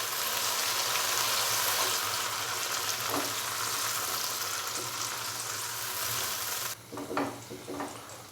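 A tomato and green chili paste fries with chicken in a hot pan, a steady loud sizzle that suddenly drops away near the end, followed by a few soft scraping stirs.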